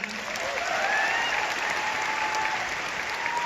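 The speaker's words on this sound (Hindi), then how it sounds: "एक बार उनके लिए जोरदार तालियां" Dense, sustained applause from an audience at a Delhi success day event, an even wash of clapping filling the whole stretch with no talk over it.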